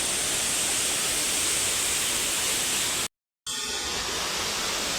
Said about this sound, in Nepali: उता पनि सानो झरना छ